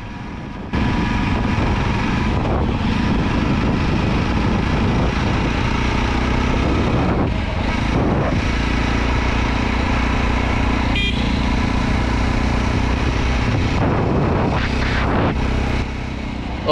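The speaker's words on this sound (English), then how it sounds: "So please enjoy the exhaust note for a few seconds." A Jawa Perak motorcycle's exhaust drones steadily while riding on a Diwali outing near Barvi Dam, a loud, continuous engine note with slight rises and dips in revs and wind noise, no talking.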